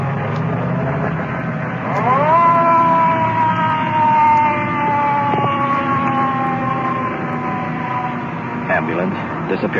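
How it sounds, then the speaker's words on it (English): An ambulance siren wails steadily with long rising and falling tones at night, heard amid city traffic and growing slightly fainter as the vehicle pulls away; a voice speaks over it. "Ambulance disappearing in the traffic."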